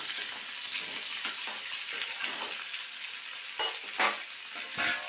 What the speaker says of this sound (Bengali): এটাকে পাঁচ সবজি নাড়াচাড়া করে নিলাম